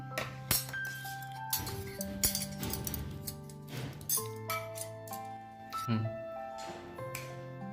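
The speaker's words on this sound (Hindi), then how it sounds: "तो इसको मैं कटोरी में निकाल लेती हूँ।" Spoon clinking against a bowl while pumpkin halwa is served, a run of bright metallic clinks and pings at irregular intervals, close and fairly loud, with soft voices talking around them.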